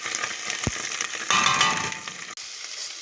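A heaping teaspoon of ginger garlic paste fries in hot oil in a pan, a bright continuous sizzle that swells loudly partway through. A single knock is heard near the start, with no talking.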